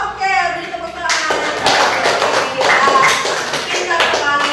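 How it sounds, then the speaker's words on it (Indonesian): A class of students claps for a classmate's correct answer during a science lesson. A voice is heard first, then a loud, dense burst of clapping follows for several seconds close by. "beri tepuk tangan"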